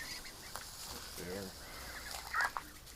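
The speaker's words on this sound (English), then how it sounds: "Some new colored Muscovies." Muscovy ducks, including some newly colored ones, give a few short quiet calls close by, with faint talk and background noise around them.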